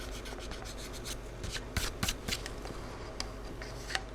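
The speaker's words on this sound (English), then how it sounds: "We'll erase the crooked mark." A pencil mark on a model rocket build is rubbed out with an eraser, giving close, soft scratchy scrubbing strokes in a fairly even rhythm with a few sharper scuffs.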